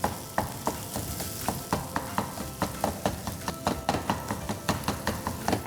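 Two flat spoons chop and tap eggs on a tawa with a rapid, irregular metallic takatak clatter over a steady frying sizzle, close and fairly loud, no voices.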